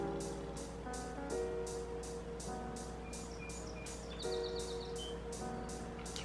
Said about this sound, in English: You guys hear those birds singing outside?